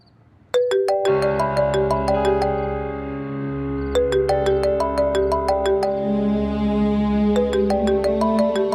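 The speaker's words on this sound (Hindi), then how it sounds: "फोन आ रहा है आपका?" A phone rings with an incoming call, a loud melodic ringtone of bright plucked notes repeating in phrases, playing continuously without talk over it.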